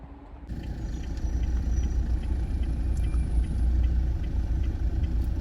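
A car engine hums steadily at low pitch as the vehicle pulls away, a close, continuous rumble that stays even and unbroken with no voices over it.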